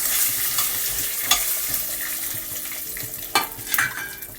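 Peanuts frying in hot oil in a pan, with a continuous crackling sizzle and a few sharp scraping stirs, close and alone.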